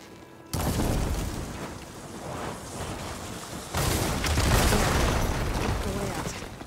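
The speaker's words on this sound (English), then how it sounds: "Hitting those blaze barrels with fire ammo should do the trick." Blaze barrels hit with fire ammo in Horizon Forbidden West erupt into a loud, sustained roar of explosions, a first burst followed by a second heavier blast that rumbles on.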